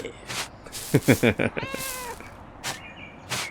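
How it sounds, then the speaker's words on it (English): A cat in the medieval narrative video game Pentiment meows several times in quick succession, clear and close, over a quiet game background. "Good cat."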